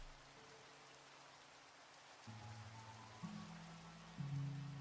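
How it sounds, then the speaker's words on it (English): Minecraft rain hisses faintly and steadily as a soft, even wash of patter beneath quiet tonal game notes that step up gradually in the background. "You think it's the rain? Okay, yeah, it is Minecraft rain."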